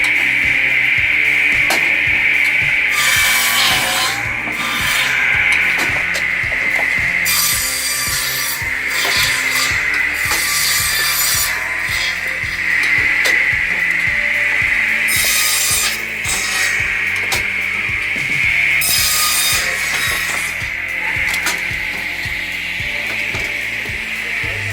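A large firewood processing machine saws through tree logs, giving a loud, continuous grinding rasp with repeated cutting passes and rhythmic mechanical clatter, close and steady throughout with no voices.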